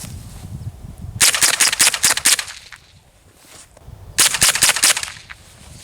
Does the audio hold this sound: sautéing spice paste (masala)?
no